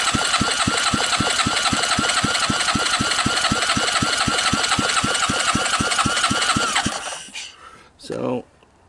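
A salvaged Suzuki LT160 ATV engine idles steadily with a rapid, even chugging for about seven seconds, then cuts off, followed by a brief faint rustle.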